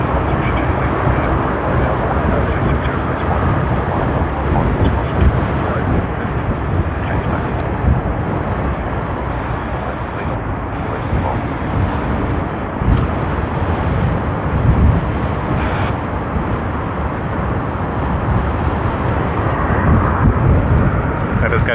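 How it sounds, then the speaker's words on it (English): An Air New Zealand Boeing 777-300ER departing Sydney Airport for Auckland sends out a loud, continuous jet roar with wind buffeting the microphone, sustained throughout at close range. "this is Air New Zealand Boeing 777-300ER, ends at 104 to Auckland"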